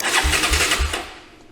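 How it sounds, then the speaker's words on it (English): A four-wheeler ATV engine cranks on its electric starter in three rhythmic low bursts, loud and close, then the cranking fades without catching. "engine turns over"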